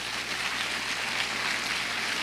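A church congregation applauding the Lord during a sermon, a continuous dense wash of clapping, steady and moderately loud, without voices.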